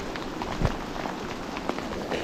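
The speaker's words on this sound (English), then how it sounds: "now it's hailing on us" Hail and rain pelt down during an Alaskan storm, a dense continuous patter of small impacts with a few sharper knocks, close and steady with no voices.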